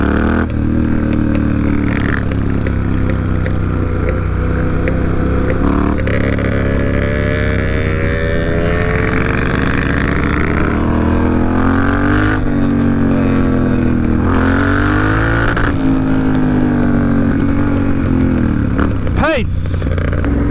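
Off-road motorcycles racing and overtaking at a motorcycle festival, engines revving and whining up and down in pitch as bikes accelerate and pass nearby, a continuous loud roar with an excited voice calling out over it.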